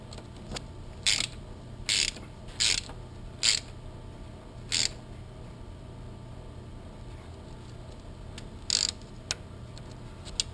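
A ratchet tightens bolts on the drive of a Yamaha Vector snowmobile, giving several short bursts of rapid clicking, close and distinct, with pauses between turns over a low background hum.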